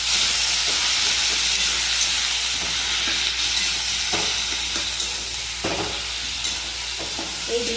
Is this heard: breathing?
no